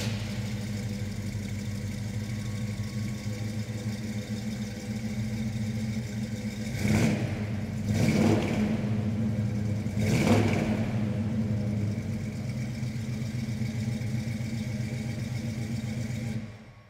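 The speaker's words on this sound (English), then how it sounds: "This truck fires right up when we start it." A 1985 Chevrolet C10 pickup engine idles steadily after a cold start, then revs up in three sharp bursts before settling back to a rough, even idle.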